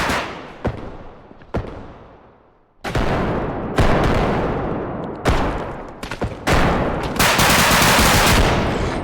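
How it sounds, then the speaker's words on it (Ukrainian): Loud bursts of automatic gunfire in rapid sequences in a bodycam-style special forces shooter game, separated by short gaps, with sharp reports and ringing decay. "Я почав перше стріляти"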